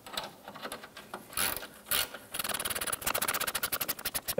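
A ratchet wrench tightens a nut on the lower engine torque strut mount of a 2005-2007 Ford Five Hundred. A few slow scrapes and clicks build into a fast, steady run of loud ratcheting clicks, close by, with no talking.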